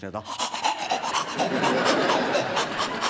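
A voice imitates a pug dog panting with rapid, rhythmic raspy breaths, loud and close, as a comedy routine in front of an audience, after a few spoken words.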